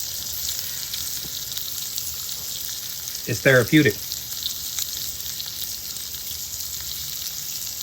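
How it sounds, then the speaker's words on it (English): Steak and salmon cooking over an open wood fire on a 48-inch Sunterra grill give a steady broad crackling sizzle throughout, with a short burst of a voice speaking over it midway. "Let's take about 15 seconds to enjoy the sizzle, enjoy the flame."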